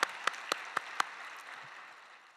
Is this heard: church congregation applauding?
yes